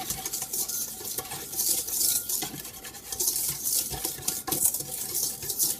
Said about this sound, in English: And I'm going to whisk this until it's all really well.